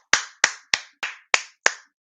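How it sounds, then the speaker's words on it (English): Six sharp, evenly spaced hand claps in about two seconds, close and crisp, sounding like a single person clapping rather than a full crowd, as applause for a group of twelve high school wrestlers. "Big round of applause for those 12 guys."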